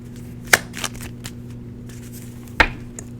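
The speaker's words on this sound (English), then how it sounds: "Still shuffling the cards and getting into the energy." Tarot cards being shuffled by hand, two sharp riffling bursts about two seconds apart with softer card flicks between, close and clear over a steady low hum, no talking.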